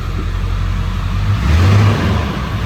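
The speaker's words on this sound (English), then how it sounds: "You can hear the engine out here." A lifted Ford F-250 pickup with a 7.3L engine and six-speed manual revs briefly. The steady, close engine rumble swells for about a second before settling back, heard alone without talk.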